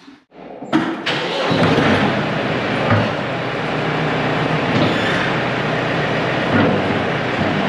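A brush mulcher engine in need of repair cranks briefly, then catches and settles into a steady, loud running roar close by, with no talking.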